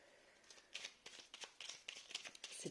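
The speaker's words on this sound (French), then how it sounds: "c'est des toutes petites cartes, donc pour les mélanger, c'est pas" Small tarot cards being shuffled by hand, a close run of quick papery riffles and flicks repeating irregularly over a few seconds, fairly quiet with no talking.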